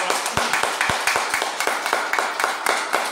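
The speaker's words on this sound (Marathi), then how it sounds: "चला सगळ्यांसाठी एकदा जोरदार टाळ्या वाजवा." A group claps hands loudly in a yoga breathing session, giving a rapid run of sharp, close claps that repeat steadily for about three seconds without talk.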